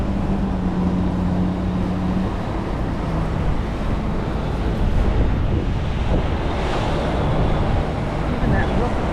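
Wind buffeting past a boat cruising the Great Loop from Chicago to Joliet, a steady loud roar of gusts on the microphone with water and engine rumble beneath, a voice speaking over it.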